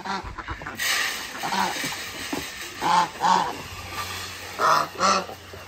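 A duck honks in repeated loud bursts close by, with chickens and a rooster nearby on a farm with goats and donkeys; the calls come in pairs with brief pauses between.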